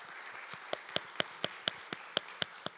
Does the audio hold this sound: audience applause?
yes